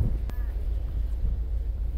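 Strong wind buffets an outdoor microphone in Tallinn, Estonia in winter, a steady low rumble and roar lasting throughout, with a brief sharp crackle near the start and faint voices in the background.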